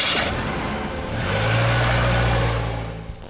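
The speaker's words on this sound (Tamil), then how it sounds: "சரி, வண்டி அடிச்சு ஓட்டலாம்." A car pulls away under steady acceleration, its engine hum rising and swelling close by over about three seconds before easing off.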